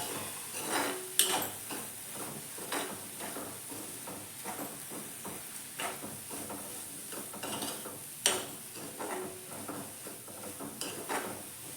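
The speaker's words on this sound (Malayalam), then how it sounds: "നല്ലോണം ഒന്ന് ഇളക്കാം." Soya chunks thoran with grated coconut is stirred in a pan, with a spoon scraping and tapping repeatedly against the metal over a low sizzle, close and fairly quiet.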